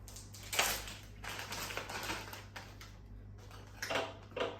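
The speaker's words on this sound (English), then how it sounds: "I'll pop out one Ziploc bag" Up close, a plastic Ziploc bag is pulled open, making a string of crinkly, crackling rustles over a low steady hum, with a short pause before a final few crackles.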